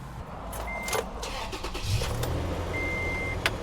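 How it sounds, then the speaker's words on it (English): A car engine idles steadily just after being started, a close, continuous low rumble with a few faint clicks and a thin electronic beep on top. "Now that the engine's running"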